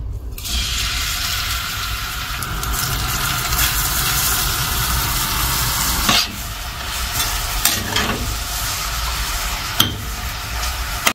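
Grated carrots fry in plenty of ghee for carrot halwa, a steady loud sizzle running throughout with occasional scraping stirs and a few sharper clicks of the spoon against the pan.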